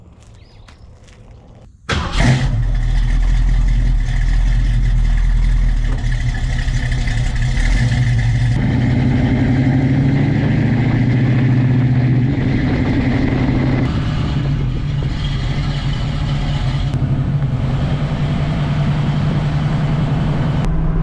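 A muscle car's engine drones loud and steady from inside the cabin while cruising a highway, a continuous low rumble that kicks in abruptly after a quieter start and holds with slight shifts in pitch.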